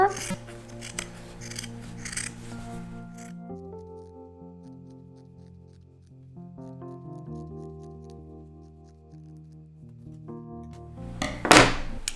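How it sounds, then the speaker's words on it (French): Scissors snip around soft slipper material during a repair, with bursts of close cutting at the start and again near the end, separated by a quieter stretch of steady tonal background; a voice talks during the clip. "Maintenant, on découpe. Donc, on fait tout le tour."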